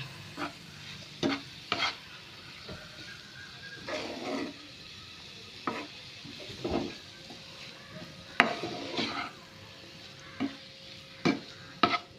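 Mushrooms with masala are stirred in a pan: a soft background sizzle runs underneath while a spoon scrapes and knocks against the pan in irregular bursts.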